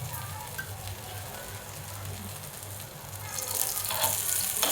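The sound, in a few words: ragi flour dhirde batter sizzling in ghee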